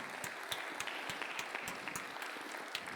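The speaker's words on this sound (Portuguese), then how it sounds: "Uma salva de palmas para esse departamento." A congregation gives a round of applause for a health department, an even spread of many hands clapping with some distinct louder claps, heard at a moderate distance and fairly quiet.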